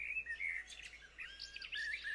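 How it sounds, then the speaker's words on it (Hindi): Birds chirp and tweet at dawn beside a still river, several thin high calls overlapping in quick bursts, faint and distant against a quiet background. "भोर के पंछी एक लय सुर में चहक रहे थे"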